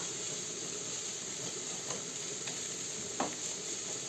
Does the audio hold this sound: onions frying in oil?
yes